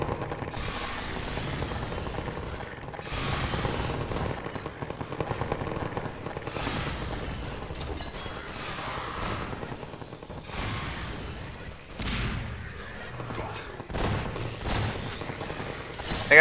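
Turret gunfire in Half-Life 2 rattles in long rapid bursts with short gaps, loud and sustained across the stretch, heavy and close-sounding.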